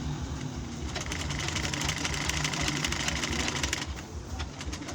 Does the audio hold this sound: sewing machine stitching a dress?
yes